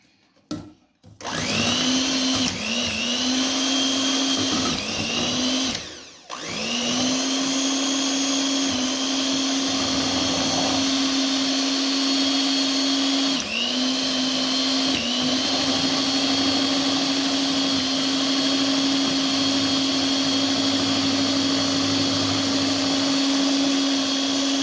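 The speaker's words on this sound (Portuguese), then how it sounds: "Agora nós vamos bater o chantilly para colocar em cima" Electric mixer whipping chantilly cream for topping a simple homemade cake, a loud steady whirring motor running continuously after a brief start, with short pauses and pitch dips as it churns.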